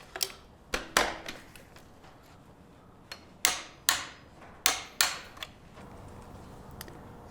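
A torque wrench tightens upper motorcycle front-end structural bolts to 19 foot-pounds, giving a series of sharp, close metallic clicks and snaps spaced irregularly, loudest in a cluster midway, with quiet workshop background and no talking.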